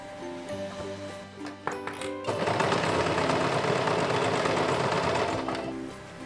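A sewing machine stitches the side pieces of a cosplay costume, starting with scattered tapping and then settling into a loud, steady motor whir that runs through most of the clip.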